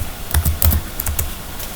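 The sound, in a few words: typing on a computer keyboard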